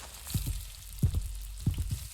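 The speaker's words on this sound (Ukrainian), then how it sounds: "А, він яйця смаже." Eggs frying in a pan give soft crackling sizzle bursts in three close clusters over a steady low hiss, heard nearby and alone.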